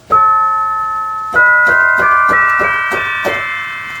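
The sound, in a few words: synthesizer tubular bells sound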